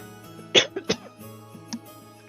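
Several close, sharp coughs and throat-clearing bursts from a person at a streaming microphone, two quick coughs followed by a smaller one, with quiet background hum between.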